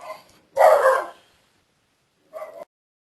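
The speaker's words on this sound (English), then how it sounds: "Sorry about the dogs." Two dog barks indoors with a pause between them: a loud, close bark, then a shorter, quieter one about two seconds later, with silence otherwise.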